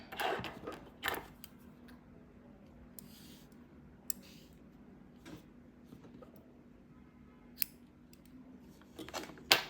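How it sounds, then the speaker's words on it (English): Scissors snip through crochet yarn from a hat in a quiet room, giving a few crisp clicks and cuts spaced out over a faint low hum. "I'm going to cut off the yarn"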